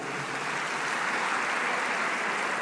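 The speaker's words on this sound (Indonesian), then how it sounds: "Oke, tepuk tangan untuk politik pemerintahan." Applause from a hall of IPDN civil-service cadets at a government lecture, a steady, dense wash of clapping that holds evenly across the whole stretch with no voices breaking through.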